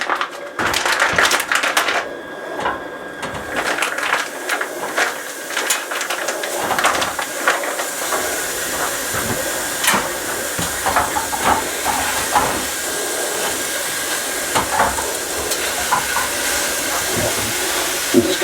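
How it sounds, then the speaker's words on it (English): Homemade chili cooking hot in a pot: a steady loud sizzling hiss runs throughout, with dense crackling and popping bursts layered over it. "It's cooking a little hot, so I'm just going to turn it down a little bit."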